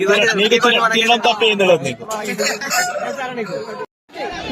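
A fighting cock crows near a beach cockfight, its calls mixed with close voices talking over it and ending with a brief pause.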